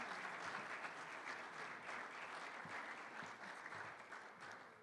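Steady applause fills the room at a chamber of commerce awards gala as the audience claps for staff and interns, a dense, even wash of many hands that tapers slightly at the end.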